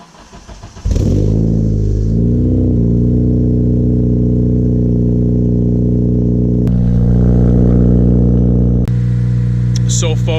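A Honda K20 car engine is started and revved hard into VTEC, rising to a loud, steady, sustained high-rpm drone, close and dominant, with a couple of sharp shifts in tone near the end.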